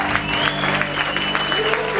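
An audience applauds at a live concert, steady clapping under a faint sustained musical tone.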